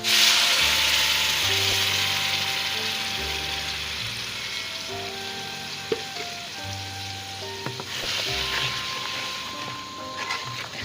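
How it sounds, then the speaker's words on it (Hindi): A steady, loud sizzle of tomato, onion and chili paste frying in a hot pan continues throughout, with occasional spatters and clinks, while a background melody plays faintly. "इसको फ्राई कर रही हूँ।"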